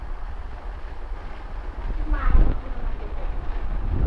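Strong typhoon wind during Typhoon Ondoy roars in a steady broadband rumble, swelling into a louder gust around the middle before settling back to a constant howl.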